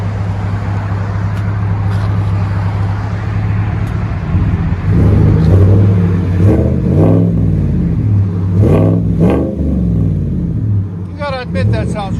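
A 2015 Chevy Silverado with a 5.3L V8 and Flowmaster Flow FX dual exhaust idles with a deep, loud rumble, then revs in a few rising and falling bursts, while a person talks over it near the end.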